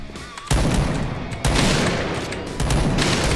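Three heavy BORA-12 sniper rifle shots ring out in Point Blank, each a sharp, loud blast with a long booming decay, spaced about a second apart.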